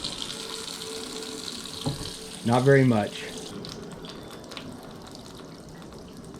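Water runs from an RV kitchen sink faucet in a 2022 Keystone Montana being winterized, a steady hiss under brief talk with a short spurt when the line opens under residual pressure.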